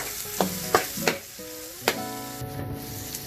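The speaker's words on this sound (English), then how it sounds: "Stir fry for 10 minutes." Chorizo, corn and other fried rice ingredients are stir fried in a pan, giving a few sharp scraping and tossing strokes over a soft sizzle, close and fairly quiet.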